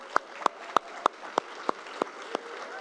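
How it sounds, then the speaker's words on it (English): Steady, evenly paced clapping at a chef-hosted brunch-themed food event, about nine crisp claps in under three seconds, fairly faint over a quiet room hum with no voices. "let's give her another round of applause."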